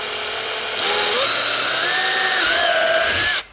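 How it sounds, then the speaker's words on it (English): A power drill bores holes into a KLR650 motorcycle part. The close, steady whirring whine has a pitch that climbs and wavers for nearly three seconds, with no voices, before it cuts off sharply. "Once he drills, that's it, there's no going back."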